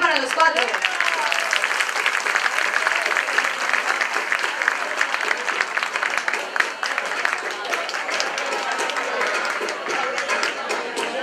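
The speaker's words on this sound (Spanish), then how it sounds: "¡Un aplauso rompedor para los cuatro!" Loud, sustained applause from an audience at a children's Christmas festival after a dance act, continuous dense clapping for about eleven seconds with crowd noise and a voice over a loudspeaker at the start.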